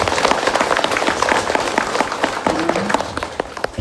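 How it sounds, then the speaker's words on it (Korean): Big round of applause from students at a Buddhist college lecture on the Avatamsaka Sutra, dense close clapping from a crowd sustained for several seconds. "큰 박수를 여러분들께 한번 보내드릴게요."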